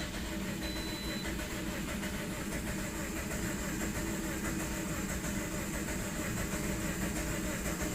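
2009 Toyota Matrix engine cranking over with cylinders disabled, a steady, even mechanical churning drone with a rapid rhythmic pulse, continuous and unchanging throughout.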